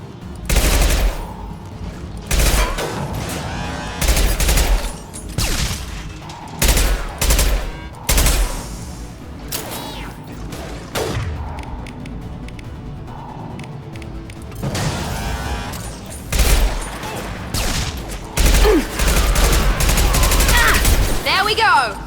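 Gunfire in the video game Mass Effect 2: loud, dense bursts of shots and heavy impacts repeat through the whole stretch, with crashes, mechanical clatter and game voices mixed in.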